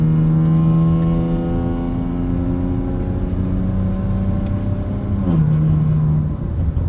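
A 2008 BMW 335xi engine accelerates steadily, its loud, continuous drone climbing in pitch, then dipping briefly around a gear change before pulling on, with no talking over it.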